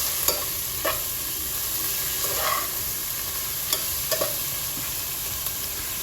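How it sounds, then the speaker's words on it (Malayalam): Chopped tomato, a large onion and green chillies sautéed with prawns for a home-style prawn rice: a constant pan sizzle broken by scattered scraping stirs of a spoon against the pan, heard alone without talk. "ഒരു തക്കാളി, ഒരു വലിയ സവാള, 2 പച്ചമുളക് അരിഞ്ഞതും കൂടി ഇട്ട് നന്നായിട്ട് വഴറ്റുക"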